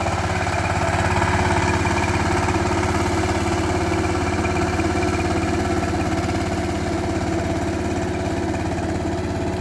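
Steady diesel chug from a Saiping 28-blade farm tractor engine running nearby, loud and even with a constant rhythmic throb and a faint whine, sustained without pause or speech.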